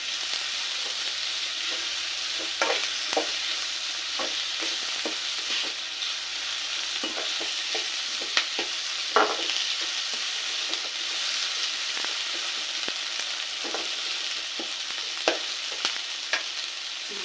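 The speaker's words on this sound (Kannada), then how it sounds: "ಈ ಈರುಳ್ಳಿ ಎಲ್ಲ ಗೋಲ್ಡನ್ ಬ್ರೌನ್ ಆಗೋದಕ್ಕೆ ನಾವು ಚೆನ್ನಾಗಿ ಫ್ರೈ ಮಾಡ್ಕೊಬೇಕು" Onions frying in a pan for a potato palya, a steady close sizzle with scattered crackles and occasional stirring scrapes throughout, no voices.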